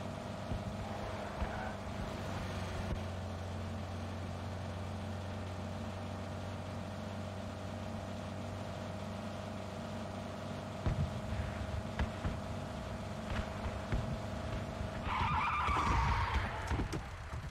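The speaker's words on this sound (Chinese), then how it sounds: "我决定骑上一艘小摩托" A small motorbike engine in PUBG Mobile drones steadily nearby. Its tone shifts partway through and then rises into a louder, rougher roar near the end.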